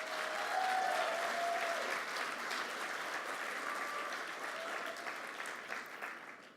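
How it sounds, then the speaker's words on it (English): Applause at a call center awards dinner, a roomful of guests clapping steadily for several seconds and slowly fading, with a few faint voices underneath. "round of applause for Miss Marta."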